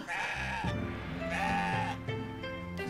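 Goat kid from the video game CrossCode bleating loudly and close, three drawn-out wavering bleats in a row over game background music, no talk.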